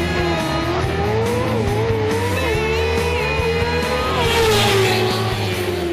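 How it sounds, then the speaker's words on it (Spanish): Motorcycles run an acceleration and braking test on a straight road at a bikers' rally in Astorga, Spain. Their engines whine loudly and continuously, pitch climbing and dipping as they speed up and slow down. "la espectacular prueba de aceleración y de frenada que se puede ver en esta recta"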